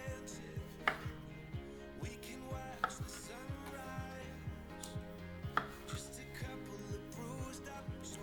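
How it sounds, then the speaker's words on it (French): Knife chopping tomatoes into pieces on a cutting board, a steady run of close, crisp thuds at an even rhythm, with a few louder knocks, while someone talks over it in a kitchen. "maintenant je vais passer aux tomates. On va donc venir les couper en morceaux"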